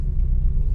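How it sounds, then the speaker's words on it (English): A Triumph Stag engine idling close by, a dense, steady low rumble over a short stretch with no voices. "okay, the engine's running now"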